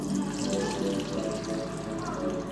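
Beaten eggs mixed with cheese poured low into a pan for breakfast scrambling, a soft continuous liquid pour with faint sizzle, steady and close for a couple of seconds.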